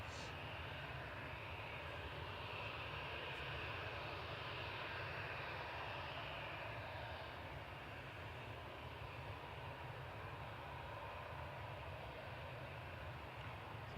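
An airliner takes off from a runway at Manchester Airport, its engines giving a steady, distant broadband roar that holds evenly throughout with no voices.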